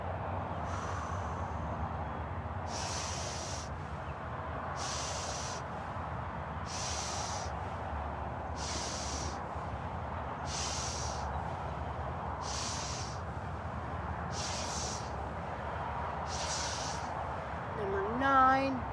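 Forceful, rhythmic warrior breathing in a qigong strength session: about nine sharp, hissing breath bursts at steady intervals over a low, constant background hum, each breath loud and close.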